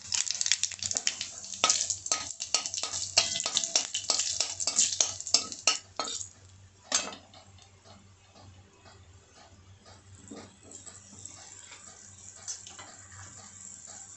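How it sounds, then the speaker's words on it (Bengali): Dried red chillies and nigella seeds crackle loudly in hot oil in a pan, sharp pops and a busy sizzle over the first six seconds that then settle into a softer, sparser hiss with occasional pops. "শুকনো লঙ্কা ফোড়নে দিলাম, কালো জিরে দিলাম"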